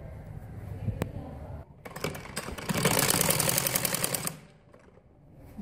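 Sewing machine stitching the sleeve of an umbrella frock, running in bursts: a brief start, then a longer fast rattling run of needle strokes that stops, with quieter handling sounds around it.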